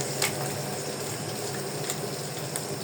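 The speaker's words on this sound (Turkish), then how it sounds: "Bunu da kızartayım." Fish frying in a pan gives a soft, steady sizzle and crackle with a few brighter pops, heard alone without talk.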